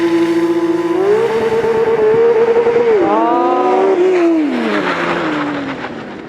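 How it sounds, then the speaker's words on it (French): A Porsche on a race circuit accelerates hard through several upshifts, engine note climbing and dropping with each gear, then fades as it brakes hard to a stop; loud and close with no talking. "dès que je franchis les plots orange, hop, gros frein et je m'arrête avant les plots jaunes là-bas"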